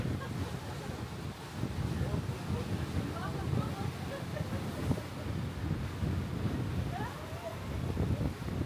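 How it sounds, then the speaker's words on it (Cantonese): Strong wind buffets the microphone on a tourist boat crossing a Swiss lake, a continuous rough roar with gusts that never lets up. "大家感唔感受到喺隻船上面係幾咁大風啊"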